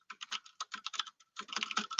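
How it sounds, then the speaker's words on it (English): Rapid typing of code on a computer keyboard, close and crisp, in uneven bursts of clicking keystrokes with a brief pause in the middle before a faster run. "I'm just typing a few lines of code to actually get the backend part running"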